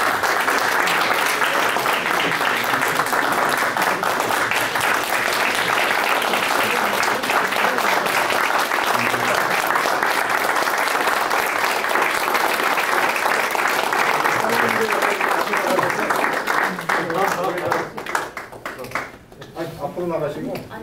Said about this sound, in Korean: 제 평생에 기립박수 처음